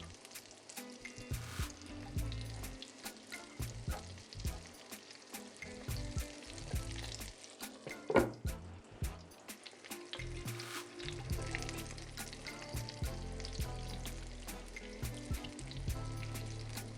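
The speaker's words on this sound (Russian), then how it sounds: "Обжариваем сырники с обеих сторон под закрытой крышкой" Syrniki, cottage cheese pancakes, fry in oil in a covered pan, giving a steady close sizzle with crackling bursts and occasional louder pops, alone without voices.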